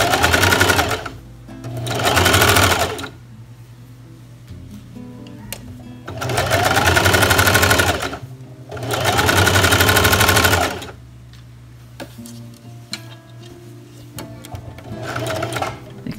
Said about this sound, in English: So I'm gonna do a little bit of straight stitch and then back up.